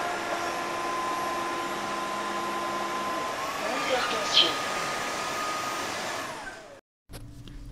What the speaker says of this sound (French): Et maintenant que l'aspirateur a avalé les cheveux